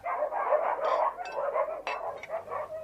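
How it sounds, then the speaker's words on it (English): Three dogs bark at a farmhouse, somewhat faint and mixed together, with a run of quick yapping barks over a low steady hum. "dogs you can hear barking. 3 of them there are."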